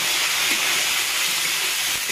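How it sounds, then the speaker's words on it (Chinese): Free-range hen pieces stir-frying in hot oil in a wok, a steady broadband hiss and sizzle filling the clip, close and fairly loud with no talk. "炒家里土鸡了。"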